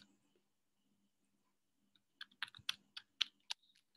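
Typing on a computer keyboard, a quiet stretch giving way to a quick burst of close, crisp key clicks in an uneven rhythm.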